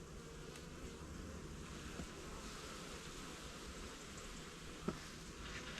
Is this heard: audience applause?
no